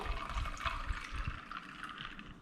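Hibiscus water poured into a glass with ice, a short close gurgling splash and trickle that fades within a couple of seconds, no voices.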